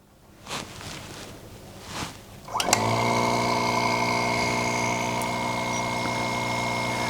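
A small air pump in an Aeroqual Dust Sentry dust monitor starts after a few faint knocks, then runs with a steady close mechanical whine and hum that carries on to the end.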